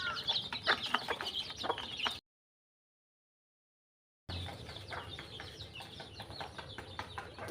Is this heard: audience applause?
no